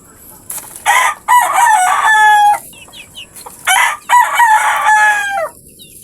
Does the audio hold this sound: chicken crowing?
yes